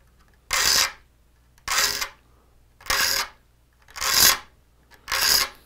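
A hand file sharpening a saw's teeth in slow, even strokes: five bright rasping passes about a second apart, each close and crisp with brief quiet gaps between, and no talking.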